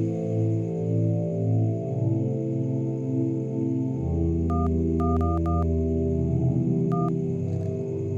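A phone number is dialed as a quick series of keypad tones, several close together and then one more after a pause, heard over a steady film music bed.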